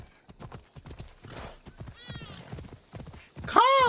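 Horse hooves clip-clop rhythmically in Assassin's Creed Odyssey, with a loud, close neigh at the end; game sounds and speech-like voices run underneath.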